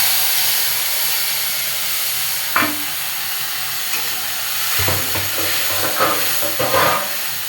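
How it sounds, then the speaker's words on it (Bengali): Whole cumin and ginger-chili paste sizzle hard in hot oil, a loud steady hiss broken by a few scraping clatters as a spoon stirs the pan; no one speaks. "গোটা জিরে ফোড়ন দিলাম। এই যে গোটা জিরে ফোড়ন।"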